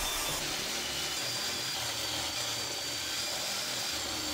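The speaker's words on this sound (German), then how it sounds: "Schraublöcher in die Schienen bohren und danach versenken," A power drill bores and countersinks screw holes in T-slot rails for a Bosch GTS 10 XC table saw's router fence, a steady, fairly quiet whirring grind that runs unbroken throughout.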